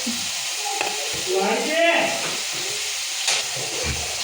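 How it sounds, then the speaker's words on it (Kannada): Green chilies and onion fry in a pan, a steady soft sizzle and hiss with brief stirring scrapes, close by and moderate in level. "ಇವಾಗ ಸ್ವಲ್ಪ ಮೆಣಸಿನ್ಕಾಯಿ ಹಾಕಿದ್ದೀನಿ."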